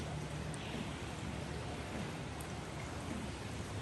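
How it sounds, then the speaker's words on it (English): Steady rain patters and hisses without a break, falling into the top of a water tank, a dense wash of falling water that stays even and moderately faint throughout. "you can hear the water actually going into the top of that tank"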